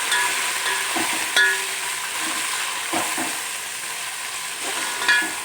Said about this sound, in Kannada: ಇವಾಗ ಚೆನ್ನಾಗಿ ಫ್ರೈ ಮಾಡ್ಕೊಳೋದು